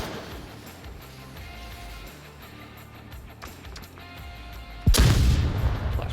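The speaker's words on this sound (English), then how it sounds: "that flashbang definitely got Electro" A flashbang grenade goes off in the VR shooter Onward, a sudden loud, sharp bang after quieter scattered game sounds, followed by a lingering noisy ringing wash.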